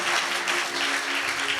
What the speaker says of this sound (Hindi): अगर आप समझे खुदा कप्पा गुरु आपके साथ कलाम कर रहा है तो जोर से ताली बजाएं।